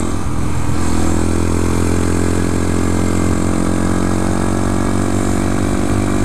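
A 2014 Honda Grom motorcycle being ridden on a winding road, its small engine droning steadily and loudly up close with a constant buzzing pitch, no voices.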